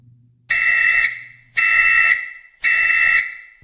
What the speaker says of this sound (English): He was suddenly awoken by a loud, blaring alarm.